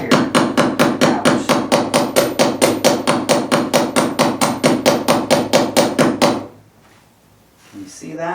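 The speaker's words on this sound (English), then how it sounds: "if I want to stretch it, I use this end of the hammer" A hammer strikes wire in steady, rapid blows, about three per second, near and loud, as the wire is stretched and forged into a brooch. The strikes stop abruptly and are followed by quiet.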